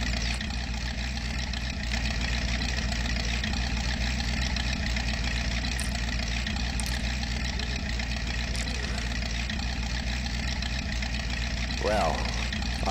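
A Chevrolet Blazer truck in the Spin Tires Mudrunner video game idles with a loud, steady, low engine drone that continues throughout, and a voice talks over it near the end.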